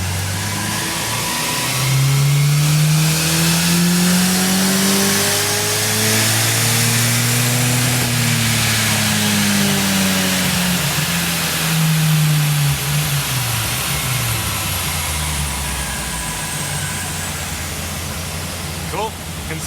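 Turbocharged Gemini engine on power runs, revving loud and close as it climbs, holds and falls back, followed by a turbo whistle winding down. A voice speaks under the engine noise.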